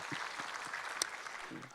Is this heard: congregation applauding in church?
yes